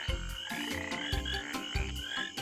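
Tree frogs croak in repeated rhythmic bursts, a deep pulsing call layered with higher chirping trills, steady and close.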